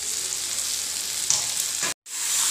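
Brinjal pieces frying in spiced masala over a medium flame, a continuous close sizzle with a brief stir near the middle and a short cut to silence before the sizzling resumes.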